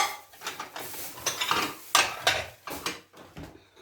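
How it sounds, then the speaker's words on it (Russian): Ceramic plates clatter and clink as they are stacked and put away in a kitchen cupboard, a series of sharp, close knocks and rattles in uneven bursts with short pauses between. "Уже вот если не с набора тарелки эти убираются."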